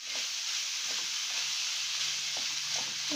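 Semolina, dry fruits and crumbled khoya being stirred and roasted in a pan over a slow-to-medium gas flame: a steady close sizzle with soft scraping strokes of the stirring spoon.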